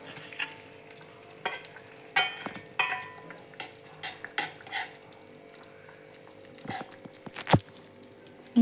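Cut boiled eggs go into a simmering egg curry in a pan, with scattered stirring scrapes, light sizzling and a few sharp clinks of a spoon against the pot over a quiet bubbling background.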